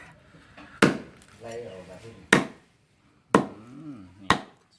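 A knife chops a snakehead fish into pieces in a rural home kitchen: four sharp, loud chops spaced about a second apart, with someone talking between the strikes.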